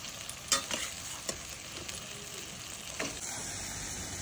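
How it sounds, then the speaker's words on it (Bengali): Chicken pieces fry and get stirred in a wok of cooked-down spice paste with the oil separated, for chicken kosha, giving a steady sizzle with a few sharp spatula scrapes, close and alone. "এই যে আমি এখন মাংসটা দিয়ে দিয়েছি,"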